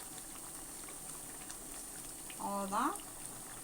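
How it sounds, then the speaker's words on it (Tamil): Quail gravy bubbles in a pan as a steady, soft simmer, with a brief spoken voice rising over it near the end. "கிரேவி நல்லா கொதிக்கிட்டோம்."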